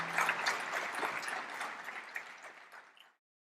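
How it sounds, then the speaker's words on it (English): An audience at a talk on India's internal security gives a round of applause to welcome D. Shivanandan: a dense, even wash of clapping that carries on for about three seconds, then stops abruptly, heard slightly distant and fairly soft. "Ladies and gentlemen, please give a big round of applause for D. Shivanandan sir."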